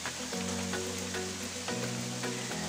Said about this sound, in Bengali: আজকে সকাল থেকে উঠেই দেখছি বৃষ্টি পড়ছে